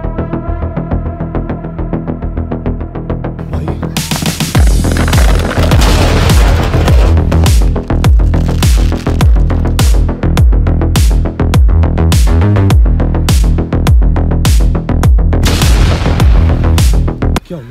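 Firecrackers go off inside a car during Diwali: a rapid, loud string of sharp cracks and bangs that builds into dense repeated blasts, heard close with no talk.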